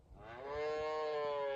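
A cow named Dolly moos once, a close, rising, drawn-out low call that swells and holds steady until the end.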